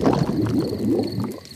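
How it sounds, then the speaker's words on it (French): A cartoon stomach gurgles in a continuous bubbling, burbling rumble of low watery pops and squelches, fairly loud and close, lasting just over a second with no talking. "Les gargouillements de mon estomac sont les plus beaux bruits de la nature."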